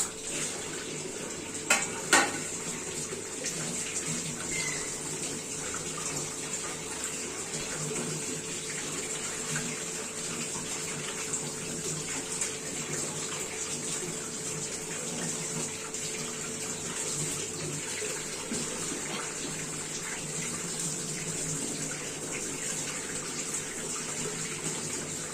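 Crabs washed one by one in water after being cleaned: a steady, continuous rush of running tap water fills the whole stretch at moderate level, with a couple of brief clinks near the start and no talking.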